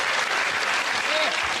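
Studio audience at a comedy panel show clapping, a dense burst of steady applause filling the whole short moment, with a voice briefly audible underneath.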